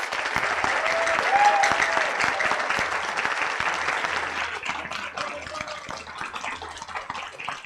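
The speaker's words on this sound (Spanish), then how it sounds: "Les pediré un último aplauso para el doctor Jesús." Sustained audience applause after a lecture on education in Cuba, dense and steady throughout before slowly thinning toward the end, with a faint voice briefly audible near the start.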